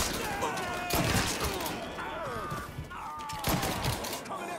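Gunfire in the Mafia III video game: scattered shots and thuds over a busy layer of game music and effects, with voices talking in the mix.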